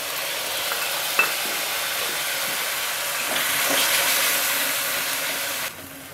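Spice paste and yogurt fry with a dense, hissing sizzle in a pan for a spicy catfish and potato curry, a sharp clink near the start and a few soft stirring knocks, loud and close, cutting off abruptly near the end.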